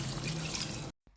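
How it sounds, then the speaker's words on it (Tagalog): Water pours steadily into a pot of chicken soup with tomatoes, a close, continuous rushing splash that cuts off abruptly near the end. "pwede na tayong maglagay ng tubig."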